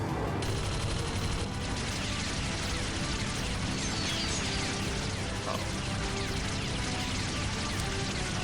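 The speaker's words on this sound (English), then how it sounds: "Oh, and then the machine gun." Sustained machine gun fire in the video game The Legend of Heroes: Trails from Zero, a continuous loud, dense rattle of rapid shots running throughout, close and unbroken, with no talk over it.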